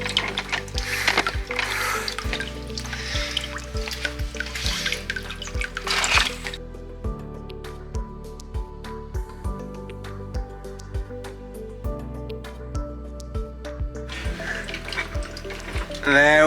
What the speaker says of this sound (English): There it pours down from the top.